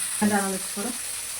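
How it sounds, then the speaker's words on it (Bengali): Paneer sizzles in a pan as it turns light brown, a steady soft hiss with a brief murmur of voice near the start. "পনির হালকা ব্রাউন কালার হয়ে গেছে, আর একটু ভেজে নেব।"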